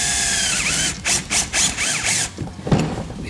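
A drill with a 1/2 inch bit bores into the center of a guitar body's control cavity, giving loud ratcheting, whirring bursts that start and stop several times over a few seconds, with no voices.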